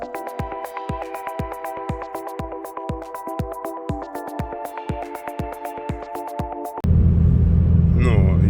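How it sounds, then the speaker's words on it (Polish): A car engine sputters and chugs in a steady rhythmic idle, then catches and roars into a loud, sustained rev at the end as the vehicle pulls away. "Dobra, odpalam, zjeżdżam i przejażdżkę chociaż po wiosce trochę."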